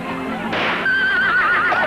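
A horse whinnies loudly and close at a cup-winning celebration, a high wavering neigh that rises out of a background rumble and holds for about a second.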